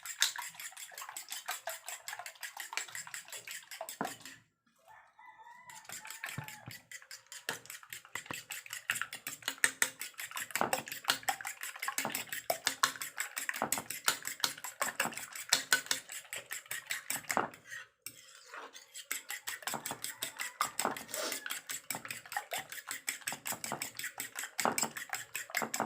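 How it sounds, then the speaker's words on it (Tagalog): Rapid whisking of beaten eggs in a bowl for an eggplant omelette, fast rhythmic clinking of a utensil against the bowl that runs continuously with two brief pauses. "Haluin ng mabuti."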